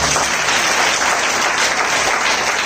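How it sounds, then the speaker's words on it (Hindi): Congregation at an Easter church service clapping together, a loud, dense, steady burst of applause throughout. "ताली बजाओ एक बार"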